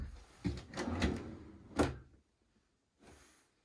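Cabinet drawers in a converted school bus slide open and shut in a few quick wooden thuds and rattles, close and clear, with short pauses and a final softer slide.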